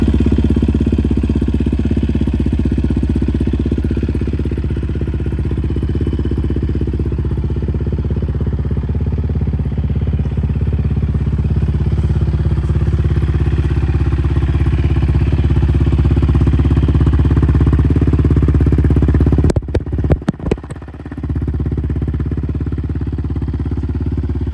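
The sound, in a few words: Yamaha Raptor 700 ATV engine started and running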